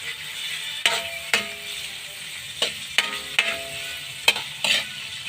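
A pan sizzles steadily while a utensil scrapes and knocks against it in irregular strokes, close by, with broth added to the cooking dish.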